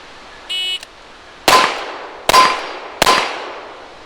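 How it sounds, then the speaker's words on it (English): A short electronic beep, then three loud, sharp revolver shots from a Ruger Bisley Blackhawk in .44 Special, fired in quick succession, each with a ringing decay. "I've got 3 shots left in the revolver, so let's try a triple tap"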